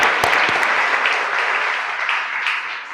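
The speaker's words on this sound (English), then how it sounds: "Let's give them a big round of applause." Sustained round of applause at a school board meeting for a girls' tournament champion team, many hands clapping steadily at close range and slowly tapering.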